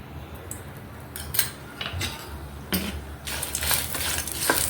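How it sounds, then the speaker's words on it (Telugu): Dried red chillies fry in a spoonful of oil while being stirred for a prawn-shell spice powder, with irregular scraping and clinking of a spoon against the pan over a faint sizzle, growing busier toward the end. "ఎండుమిర్చి మాడకుండా బాగా వేపుకోవాలి కలుపుకుంటూ"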